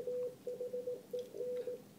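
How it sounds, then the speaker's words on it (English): Morse code from station W1AW, received on the 40 meter band through a radio transceiver: a steady tone keyed on and off in short and long beeps, clear and continuous, with no voice. "the Morse code being decoded that W1AW is transmitting"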